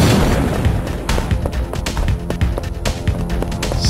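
A bomb goes off in the Fighting Force 64 beat-'em-up on the N64, a loud burst among a dense stretch of game sound effects, sharp impacts and music that keep the level high throughout.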